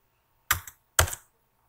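Two sharp, close keystrokes on a computer keyboard land about half a second apart, each a crisp clack with a quick rattle, in otherwise near silence.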